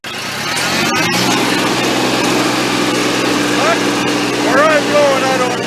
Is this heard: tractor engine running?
yes